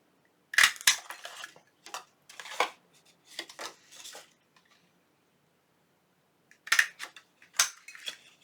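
Paper being notched out with scissors for a junk journal pocket: several crisp snips and crinkling rustles in short bursts, close and clear, separated by a quiet pause before a final cluster of cuts.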